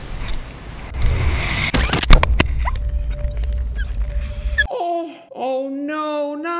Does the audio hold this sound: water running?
no